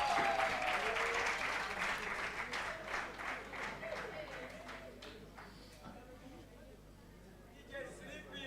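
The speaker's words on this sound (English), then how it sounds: "Clap for him." Audience clapping at a university students' guild executive swearing-in ceremony, dense applause from a crowd loudest at the start and gradually thinning out, with some crowd noise beneath.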